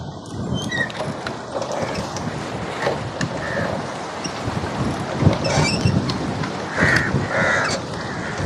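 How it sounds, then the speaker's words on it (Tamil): Blustery wind buffeting outdoors by the sea at Nachchikuda, with gusty rushing noise, scattered clatter and faint bird calls in the background. "நல்லா காற்றடிக்குது."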